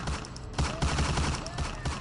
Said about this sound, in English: followed shortly after by the distinct sound of gunshots.